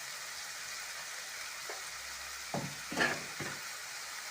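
Green beans stirred with chili powder in a hot frying pan: a steady soft sizzle with a few scraping stirs of the spoon near the end, close and fairly quiet, no talk.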